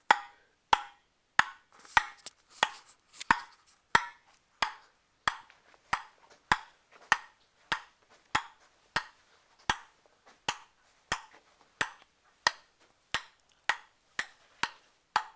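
A ping pong ball is struck back and forth in a steady rally, sharp clicking hits at a regular pace, close and clear with no talking.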